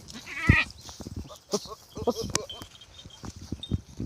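Goats on a small goat-rearing farm, with one loud bleat close by near the start, followed by softer, scattered animal calls and movement noises.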